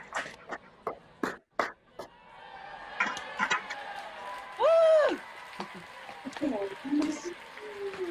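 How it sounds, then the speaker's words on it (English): Scattered, uneven claps and taps come from an online graduation audience over unmuted microphones, mixed with overlapping voices and a brief squealing tone midway. "Please unmute your microphones and share in the applause."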